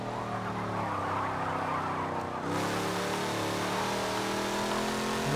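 A 1964 Chevrolet Impala Super Sport's engine revs in the Forza Motorsport 7 racing game, a steady mid-pitched drone that climbs slightly and holds, loud and continuous without speech.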